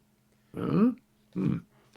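A human voice imitates a strange-sounding dog barking from down below in an old town at night, giving two short, low, gruff grunting barks separated by a pause.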